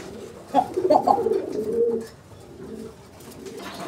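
A Giribaz pigeon gives a short run of soft, throaty coos close by, rising and falling for a couple of seconds before fading to quiet background.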